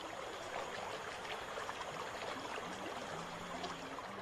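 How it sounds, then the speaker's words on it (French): Rushing water from river rapids and waterfalls in French Guiana, a continuous, faint, even roar with no distinct events and no voices. "Rapides et cataractes sont fréquents en Guyane."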